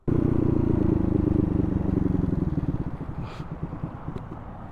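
A Honda Navi motorcycle with a big-bore engine runs at a loud, steady idle, then sputters and slowly dies away into uneven, fading pulses, suggesting a stall.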